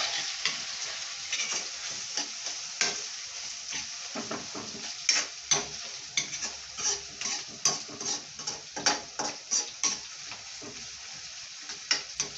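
Biryani ingredients being stir-fried with bay leaves in a pan, a steady sizzle under a string of rhythmic scraping strokes of a utensil that speed up toward the end.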